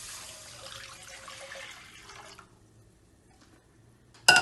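Water for churros pouring from a tap into a cooking pot, a soft hissing stream for about two seconds that then stops, leaving quiet, followed by a brief sharp clack.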